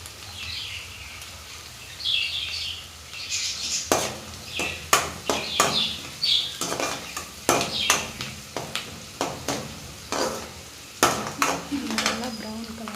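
Onions with a pinch of turmeric sauté in a pan for beans gravy, giving a soft background sizzle broken by repeated sharp scrapes and clinks of a spoon stirring against the metal.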